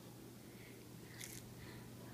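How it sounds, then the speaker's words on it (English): A fried silkworm is bitten once, giving a single short, faint crunch close up against a quiet background hiss. "You can hear the bite, the crunch."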